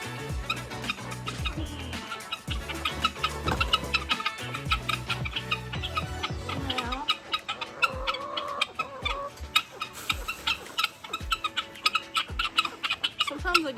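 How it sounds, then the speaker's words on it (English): Hungry chickens cluck and squawk continuously at close range, a dense busy chorus of overlapping calls with sharp bursts throughout. "Chickens are hungry."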